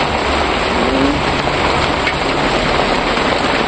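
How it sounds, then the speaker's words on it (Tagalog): Rain falls steadily as a dense, even hiss at close range, loud and unbroken throughout, with no voices over it. "Crison, umuulan."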